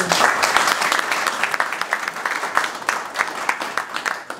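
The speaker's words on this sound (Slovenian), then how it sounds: "Predlagam aplavz tudi za njih." Audience applause fills a hall at a 40th-anniversary celebration of a Ljubljana Bežigrad crafts chamber, with steady dense clapping sustained throughout without fading.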